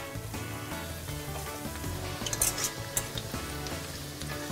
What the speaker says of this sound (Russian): Обжариваем оладьи с двух сторон до золотистой корочки.